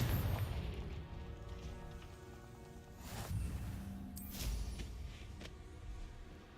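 A Confringo blasting curse fired in a wizard video game, giving a couple of quiet booming bursts amid faint background game sounds.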